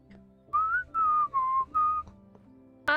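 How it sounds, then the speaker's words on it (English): A person whistles a short tune of four quick, clear notes, close and alone, with quiet background hum and a brief sharp sound at the end. "Whistling."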